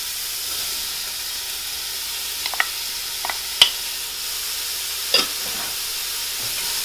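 Onion and fennel bulb frying in a hot pan give a steady soft sizzle, with a few faint clicks and taps of stirring scattered through it.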